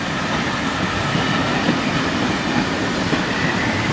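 A steam train with carriages rolls past bringing a theatre audience, giving a loud, continuous rumble and rush of rail noise close by, with no talking.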